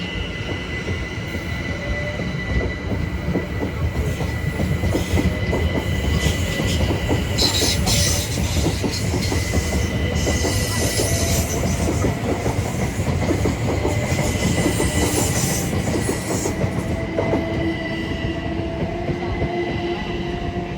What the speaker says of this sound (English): heading off is 701-002 bound for London